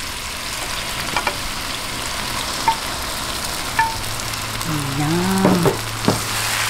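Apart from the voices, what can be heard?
chicken gizzards and liver sizzling as added to pan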